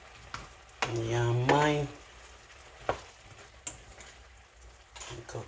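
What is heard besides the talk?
squash frying and being stirred in a pan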